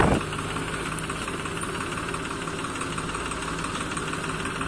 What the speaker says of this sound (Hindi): अपने यहाँ पे दो ट्रैक्टर लगा हुआ है, एक है महिंद्रा 275 और दूसरा है स्वराज।